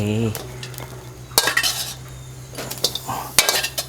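A spoon scrapes and clinks in a pan as roasted green chillies are scooped out, with sharp metallic knocks and rustling strokes close by in a quiet kitchen.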